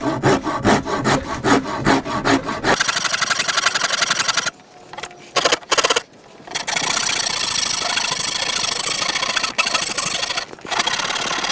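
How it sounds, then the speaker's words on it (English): Half round rasp shaping the wooden handle of a self bow, fast rhythmic rasping strokes at first, then a dense continuous loud scraping after brief gaps, close by. "So I'm going to take a half round rasp, line it up with"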